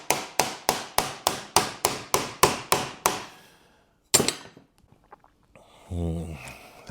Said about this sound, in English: That's hitting the wood.